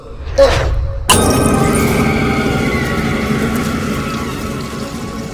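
A glass jar is dropped and shatters, a sharp crash after a brief thud that gives way to a sustained clatter and scatter of fragments, set in a dramatic horror scene.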